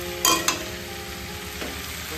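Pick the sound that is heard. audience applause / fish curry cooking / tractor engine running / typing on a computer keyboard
fish curry cooking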